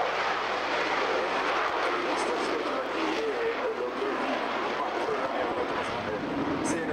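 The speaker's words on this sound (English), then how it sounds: "And our next two aircraft becoming airborne, the Intruder, the A6E Intruder." Grumman A-6E Intruder jets taking off at a naval air facility air show, a loud continuous broadband engine roar filling the whole span with little change, with an announcer's voice faintly under it.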